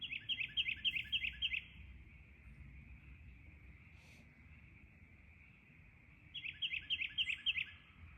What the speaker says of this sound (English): If the bird would shut up.